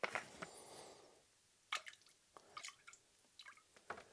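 Glycol coolant splashes and trickles into a reservoir already holding about twenty liters of water, with small dripping and sloshing sounds in scattered bursts, close by and fairly quiet.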